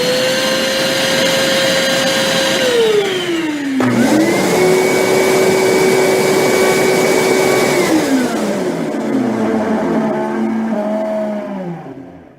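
An Armor All AA255W 2.5-gallon wet/dry utility vacuum whines loudly up close, winds down, then a second vacuum's motor spins up, holds a steady high whine and winds down to near silence.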